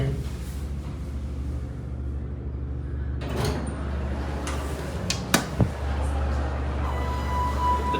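Doors of a ThyssenKrupp hydraulic freight-size elevator at a shopping mall sliding along with a steady rumble and a couple of clunks, amid background hum and faint voices.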